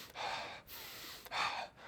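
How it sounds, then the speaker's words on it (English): Chest breathing being demonstrated, two close, audible breaths drawn sharply in and pushed out, each with a breathy hiss and a brief pause between them. "Chest breathing is up and down. It looks like this."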